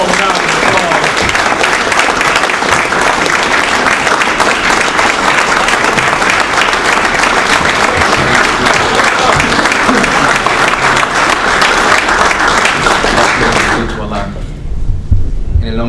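Loud, dense applause from a large audience at a Nation of Islam gathering, welcoming a student minister to the podium. It runs steadily for about fourteen seconds, then drops away as a voice begins.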